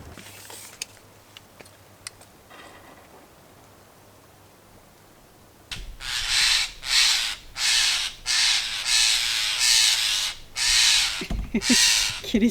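Blue jays call outdoors, a run of about nine loud, harsh, evenly spaced squawks in a steady rhythm, close by and alone, following a quieter stretch of faint ticks and rustling.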